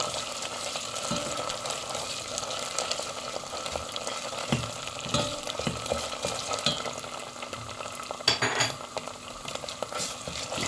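Onions and pepper paste frying in a pan for a madımak stew, a steady close sizzle with stirring scrapes and light utensil clinks throughout, no voices.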